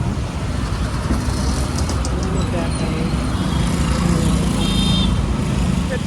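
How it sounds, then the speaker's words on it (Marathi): Dense road traffic rumbles continuously near a closed bridge, with a broad steady roar of engines and passing vehicles, faint horn-like tones, and voices talking over it. "आपण पाहू शकता ट्रॅफिक खूप आहे"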